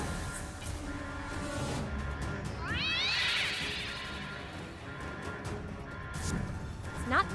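Several synthetic cat meows from the video game South Park: The Fractured But Whole sound across the clip, a cluster of rising cries in the middle, over a low game background with faint voices.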